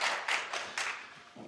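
A small audience claps after a speaker is introduced at a talk, a brief scattering of hand claps that starts fairly close and fades out within a moment.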